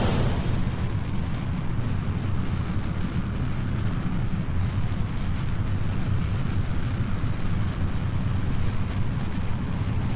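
A liquid-fuel rocket engine roars during a launch in Kerbal Space Program, being throttled up and down; a loud, dense, unbroken rumble with crackling texture fills the whole stretch, steady in level, with no voices over it.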